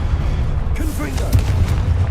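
A Confringo blasting spell bursts in Hogwarts Legacy: a sudden booming explosion follows a muffled lead-in, with crackling bursts trailing off over a low rumbling game backdrop.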